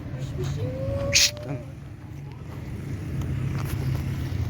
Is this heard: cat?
yes